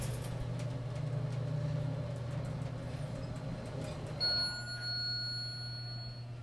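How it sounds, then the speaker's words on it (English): Otis elevator in a restaurant sounds its European-style chime, a short bright electronic tone arriving after several seconds of low steady hum and machinery noise, with no talking. "Those are European chimes."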